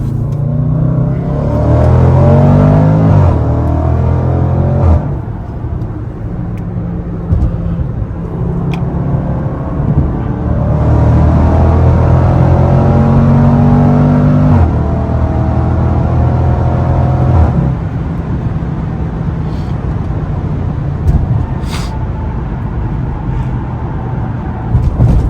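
Range Rover SVR accelerating hard from an in-car perspective, engine note rising and dropping through several distinct upshifts, loud and continuous with no talking.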